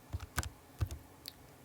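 Keys pressed on a handheld calculator, a few quiet, distinct button taps in an uneven rhythm, close but faint, with no speech.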